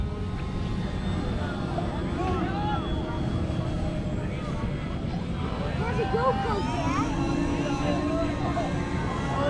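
Radio-controlled model airplanes launch at Flite Fest, a steady buzzing engine drone running throughout beneath a crowd talking and shouting outdoors.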